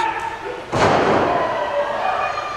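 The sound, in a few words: wrestling chop across the chest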